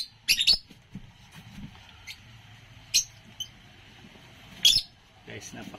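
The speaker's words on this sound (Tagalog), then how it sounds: "Guys, napakaingay ng aking mga ibon." Pet birds give a few sharp, shrill chirps in short bursts spread through the clip, fairly close, over a quiet low background rumble.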